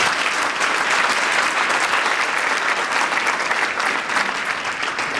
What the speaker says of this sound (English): I hope we can give them a round of applause